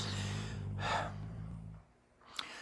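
Heavy snoring breaths close up, a long rasping inhale followed by a quieter exhale and a short snort at the end.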